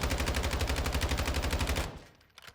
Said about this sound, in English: if we go ahead and shoot it at the wall here,